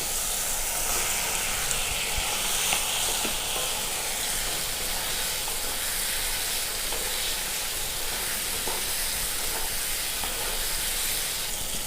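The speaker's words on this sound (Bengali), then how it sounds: "মশলা থেকে তেলটা ছেড়ে দিয়েছে। আমি এবারে বেগুনটা দিয়ে দেব।" Eggplant sizzles in a thick, oily spiced gravy for begun posto, a steady loud frying hiss with occasional stirring clicks running unbroken throughout.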